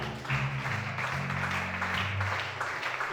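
Applause from a church congregation runs steadily at moderate volume, with sustained tones from musicians or singing carrying underneath the clapping.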